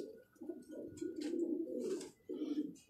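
A Rampur pigeon coos in low, rolling phrases, with three or four throaty bursts near and clear and short pauses between them.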